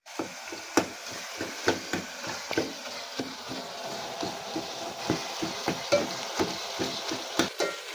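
Tomato rasam cooking in a pot is stirred with a utensil, giving steady rhythmic scraping knocks against the vessel over a soft simmering sizzle, close and without talk.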